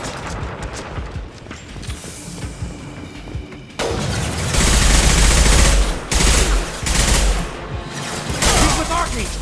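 Bursts of rapid gunfire in the Mass Effect 2 video game, loud and close, with sustained automatic volleys after a quieter stretch, mixed with game effects and some talk.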